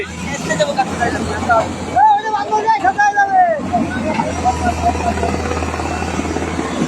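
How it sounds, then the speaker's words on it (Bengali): A helicopter comes in to land at an airport, its steady low rotor thrum and whine droning nearby under a murmur of crowd voices and loud nearby talk. "এয়ারপোর্টে হেলিকপ্টার নামছে"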